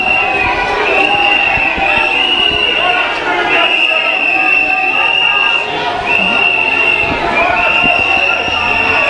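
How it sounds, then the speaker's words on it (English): Supporters out in the middle of a street in St Lucia, a dense, continuous crowd din with a steady horn-like tone running through it, loud and unbroken from start to finish. "he's out with his supporters now, and the cheering has commenced"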